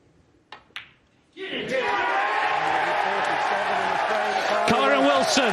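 A packed snooker arena crowd at the 2023 World Championship erupts into loud, sustained cheering and applause after a 147 maximum break, following a couple of brief sharp sounds and a moment of near silence.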